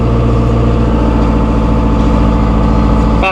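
A 2016 John Deere 5100E utility tractor engine runs steadily at about 1,750 RPM, a loud, close, even diesel drone with a throbbing low rumble, cutting off abruptly at the end.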